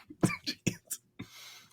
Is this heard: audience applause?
no